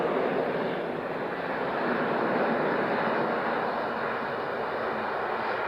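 easyJet airliner taxiing at Edinburgh Airport, a steady hissing jet engine rumble at moderate level, continuous and even, with no talk over it.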